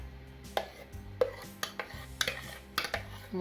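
Blended banana scraped and transferred into a bowl for a banana chocolate cake: a series of close, sharp clinks and taps of a utensil against the bowl, irregularly spaced, with soft scraping in between.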